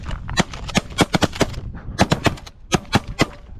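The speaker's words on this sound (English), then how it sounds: "I just shot." Shotguns blast in quick, overlapping volleys during a Canada goose hunt, with over a dozen sharp, loud shots from several shooters firing in rapid clusters.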